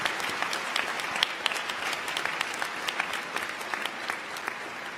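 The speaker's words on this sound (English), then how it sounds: "Please join me in giving them a round of applause." Steady applause from the audience at a college commencement ceremony, a dense wash of clapping that continues evenly without a break.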